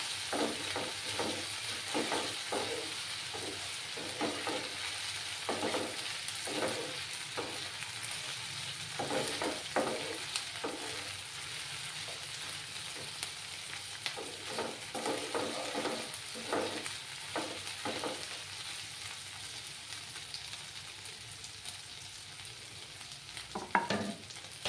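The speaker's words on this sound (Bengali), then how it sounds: "এবার আমি এই যে আদা আর রসুনের পেস্টটা দিয়ে দিচ্ছি, দিয়ে ভালো করে কষিয়ে নিতে হবে।" Ginger garlic paste sizzles in a pan while being stirred, a steady frying hiss broken by repeated scraping strokes of the spatula, near and without talk.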